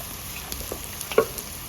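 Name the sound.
frying eggs and chopped ginger garlic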